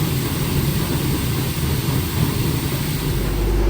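A tractor engine runs steadily during a corn harvest, a loud continuous rumble and drone with a slight rise in low-end power near the end.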